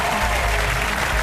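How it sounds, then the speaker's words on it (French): A TV game show studio audience applauds loudly and continuously, dense clapping with crowd noise filling the brief moment. "faites du bruit pour Sandra"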